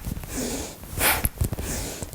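Bhastrika yoga breathing is heard as a few sharp, forceful nasal exhalations and sniffing breaths, close and fairly loud, with no speech.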